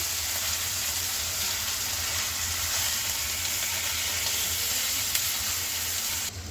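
Chicken pieces and ground-chilli masala sizzle in a pan on high heat while being stirred, a constant, dense frying hiss that stays loud and even throughout, with no talking.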